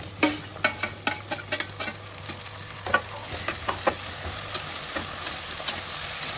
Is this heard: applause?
no